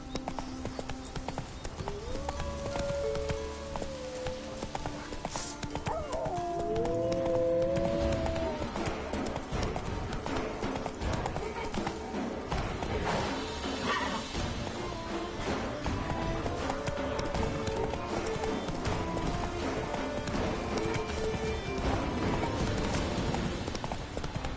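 Roach the horse gallops in The Witcher 3 on PS5, steady rhythmic clip-clop hoofbeats running throughout with a brief whinny, layered over game music with melodic tones.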